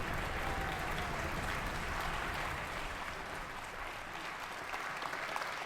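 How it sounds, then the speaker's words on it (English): Audience applause after a La Jolla Symphony and Chorus young people's concert, a steady wash of many hands clapping at moderate distance, sustained and fairly quiet throughout. "Keep clapping."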